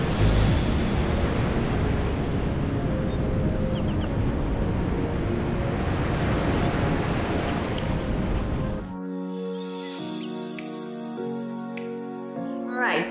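Ocean waves wash in steadily at a dog beach in Pacifica, California, a dense hiss of surf for about nine seconds before cutting to quieter, tonal background sound.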